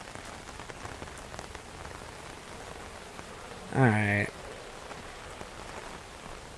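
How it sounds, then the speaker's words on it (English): Steady rain pours through a scary video game scene, a constant soft hiss of drops on surfaces running the whole time, with a short spoken word breaking in briefly near the middle. "the rain is increasing"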